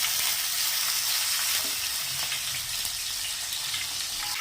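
Tomatoes fry in wood-pressed peanut oil in a pan with a loud, steady, close sizzle and scattered light crackles throughout.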